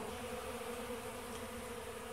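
Honey bees swarm over a dry pollen substitute feeder, covering it completely. A dense, steady, close buzzing drone runs unbroken from start to finish with no voices.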